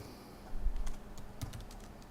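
Quick typing on a computer keyboard, a short burst of close key clicks over a faint background hum, with no speech.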